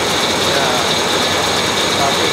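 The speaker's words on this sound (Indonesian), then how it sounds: "Ini mesin utama." Steady, dense rumble of a large cargo ship's seven-cylinder main diesel engine, recorded close in the engine room below the waterline, loud and continuous without a break.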